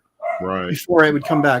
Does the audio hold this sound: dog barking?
yes